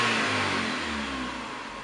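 A Volkswagen car engine, Polo, Gol or Saveiro type, with an idle and acceleration fault, is held at a steady raised speed, a brief, moderately loud hum that fades a little toward the end.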